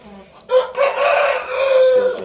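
An Aseel rooster crows loudly and close, one long drawn-out call that rises and holds, following a brief quieter cluck.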